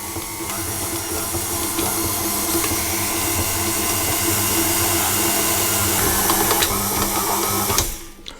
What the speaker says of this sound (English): I'm going to knead this on medium low for 8 minutes until it's all come together and it's come cleanly away from the side of the bowl